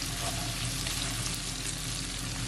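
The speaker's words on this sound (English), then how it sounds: "So now I'm gonna add my carrot just after 1 minute. I'm gonna give it a stir." Carrots sizzle in a hot pan while being stirred for a chicken stew, a steady, close hiss of frying with no talk over it.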